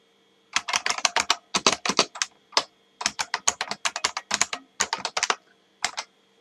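Code being typed on a computer keyboard: quick bursts of crisp, close key clicks separated by short pauses, alone in a quiet room.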